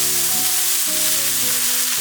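Water poured into a hot pan over a fried, broken-up egg hisses in a loud, dense, continuous sizzle right up close, with a faint steady hum underneath and no talking.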